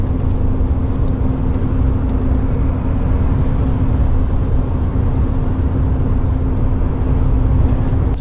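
A car creeps along in a slow motorway traffic queue, giving a steady, loud, low rumble of engine and road noise with no speech.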